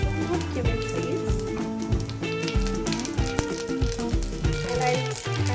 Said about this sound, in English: As the oil is heated, now I'm going to add 1 teaspoon of cumin seeds